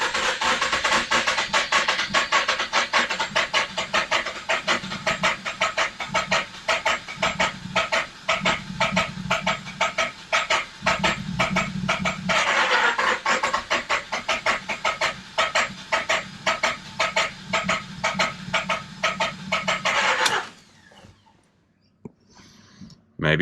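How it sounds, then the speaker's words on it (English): A Mazda RX8 13B rotary engine with low compression cranks in a fast, rhythmic churning chug for about twenty seconds, its pitch swelling as throttle is added and eased off, before it cuts out abruptly. "it won't start without a bit of throttle, and you'll hear me add and remove throttle"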